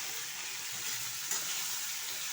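Tomato frying in a pan for a potol paneer curry, a steady dense sizzle with faint stirring, continuous and close throughout with no voices.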